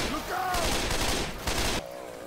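Assault rifle fire in the zombie shooter Left 4 Dead 2: a rapid burst of close, loud shots lasting about a second, then a second short burst, with game noise and talking around it.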